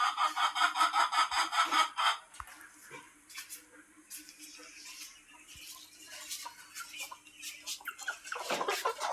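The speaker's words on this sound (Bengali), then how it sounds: "এবার মুরগির ঘরে চলে যায়, মুরগিগুলো ছেড়ে দিয়ে আসি।" Hens cluck and squawk close by as they are let out of a village coop, busy bursts of cackling over rustling, with a person talking briefly among them.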